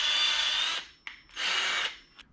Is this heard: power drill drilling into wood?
yes